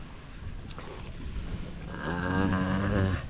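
Engine of a Filipino banca outrigger boat fitted with a new motor, heard as a steady droning hum that rises in the second half over wind and water noise, close to the microphone.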